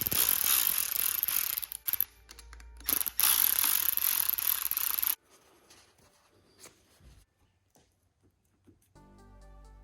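An ASV clutch lever threaded into its perch on a DRZ400SM motorcycle, heard as close, dense ratcheting and mechanical clicking for about five seconds, then near silence with a few faint small metallic ticks.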